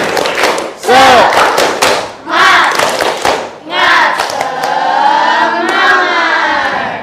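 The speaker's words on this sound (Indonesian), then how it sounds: "Tepuk semangat." A sixth-grade classroom group performs a spirit clap routine, loud voices chanting and shouting in unison with a few thumping claps mixed in, energetic and close.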